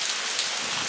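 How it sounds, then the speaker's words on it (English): Steady rain falls outdoors during a glass fused leaf-making session, a continuous broadband hiss of drops pattering on surfaces at even loudness throughout, with no voices. "And we're having a lovely rain right now"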